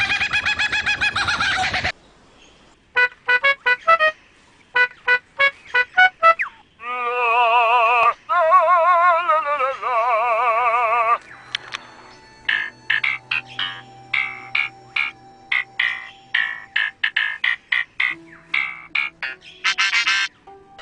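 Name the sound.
lyrebird mimicking sounds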